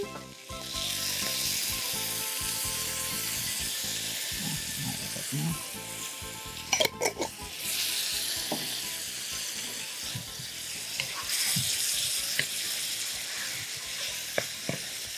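About two ounces of wine hit a hot pan of spiced filling for stuffed peppers, setting off a loud, hissing sizzle that flares, settles into steady bubbling and then surges again, with scattered stirring clinks.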